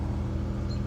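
Steady, low, continuous car engine and road rumble from inside a moving car, even and unbroken throughout.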